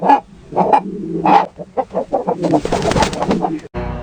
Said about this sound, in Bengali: সকিনার মায়ের মুরগি রোজ আমার ভাত খায় ধর ওদের ধর ওদের